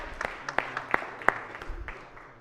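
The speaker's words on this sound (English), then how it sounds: "So let's give them a big round of applause." Applause on a state Senate floor for the pages, a scattering of sharp individual claps rather than a full ovation, fairly faint and spread across the room, with murmuring in the background.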